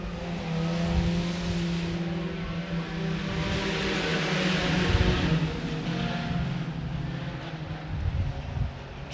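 Sport compact race cars roar around the Sherman County Speedway, a continuous layered engine drone with revving rising and falling as cars pass, heard from a distance without talk.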